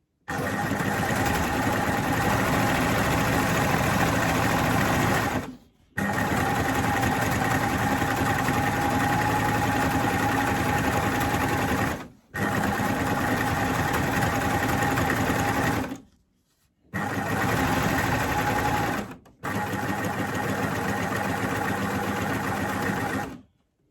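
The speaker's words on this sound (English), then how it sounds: "When we stitch down, we're going to make sure that the right needle is catching all that edge as we stitch down the straight side." A coverstitch machine sews plaid fabric for a satchel bag, running in five steady, loud bursts of rapid mechanical whirring separated by brief pauses, close up and without voices.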